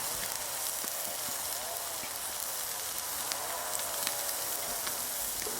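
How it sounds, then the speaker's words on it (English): Prime rib sears on a charcoal grill, giving a steady, dense sizzle and crackle that hisses evenly throughout at moderate loudness, with no voices over it. "I'll just sear this side a little bit."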